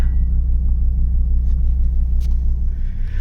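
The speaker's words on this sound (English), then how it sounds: "Let's see if it fires into life. It starts alright though. Barely running." A Volvo V70 engine runs roughly close by, a steady heavy low rumble with an uneven, laboring throb, like a motor barely keeping itself going.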